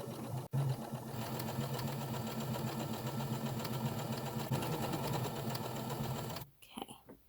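Sewing machine stitching a quilt, running in a steady fast whir for about six seconds with a brief pause near the start, then stopping and falling to near quiet.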